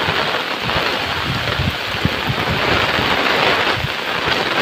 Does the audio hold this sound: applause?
no